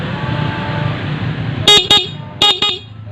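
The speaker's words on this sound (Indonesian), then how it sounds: "Nah, ini klaksonnya kan udah kita pasang." A Honda CBR 250cc motorcycle horn is tested with four loud, short honks in two quick pairs, cutting sharply over the steady rumble of the idling engine.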